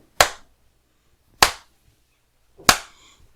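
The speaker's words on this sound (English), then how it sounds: "clap to sync the audio" Three sharp hand claps made to sync audio at a live comedy podcast recording, each loud, crisp and evenly spaced about a second apart with a short decay, no talking between them.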